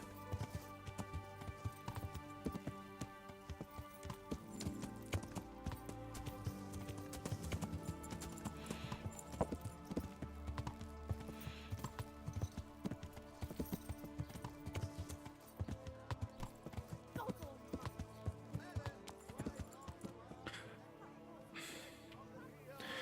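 Horse hooves clip-clop at a steady walking rhythm in the video game Kingdom Come: Deliverance, quiet and continuous over a background music bed.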